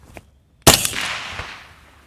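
A single suppressed 5.56 NATO rifle shot through a B&T Print-X SRBS-Ti titanium suppressor: one sharp, loud crack followed by a lingering, fading tail, with no talk.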